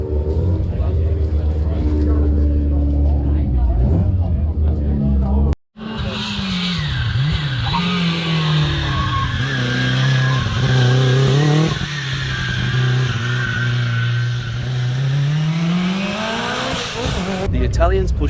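A Lancia Delta S4 Group B rally car, a rear-engined 1.8-litre four-cylinder that is both supercharged and turbocharged, screams past at a rally festival. The engine revs hard and climbs in pitch, with tire squeal, and someone talks over it throughout.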